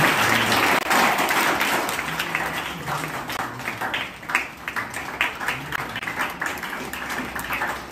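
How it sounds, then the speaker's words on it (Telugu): A church congregation applauds at a celebration service, dense clapping loud at first, then thinning into looser, more distinct claps as it fades a little. "మీ చప్పట్లు కొట్టేది ఇంకా బాగా కొట్టండి"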